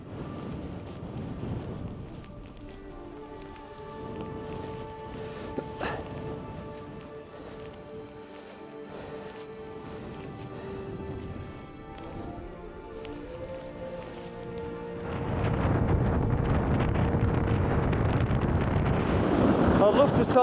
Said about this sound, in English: I can say it's bloody windy